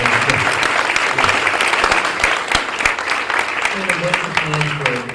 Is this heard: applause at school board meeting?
yes